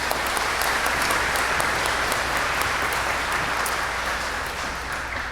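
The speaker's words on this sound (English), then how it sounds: "let's give Lainey Henold and T.R. Green a round of applause" An awards ceremony audience gives a steady, dense round of applause for two honorees, a loud, continuous wash of many hands clapping in a large room, sustained with no voices over it.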